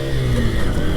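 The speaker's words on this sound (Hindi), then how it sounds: "पहले गियर में डाल दिया है बाइक को" A Honda Shine 100 motorcycle engine pulls away in first gear, giving a steady, close, loud mid-pitched drone that holds for a second.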